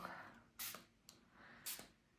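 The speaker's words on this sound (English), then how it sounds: "I'm just going to use my spray bottle." A spray bottle spritzes water onto a wet-in-wet painting of deer in a forest: two bright, hissing bursts about a second apart with a brief short puff between them, close and with no talk.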